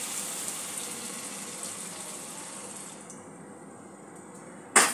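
Water pours into a pan of katla fish curry with spices, a steady gushing splash that fades after a few seconds and ends with a brief knock.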